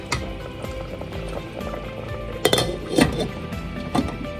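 A metal lid is set onto a pot of sambar cooking for sambar rice, giving a few sharp clinks and knocks over a low, steady kitchen background.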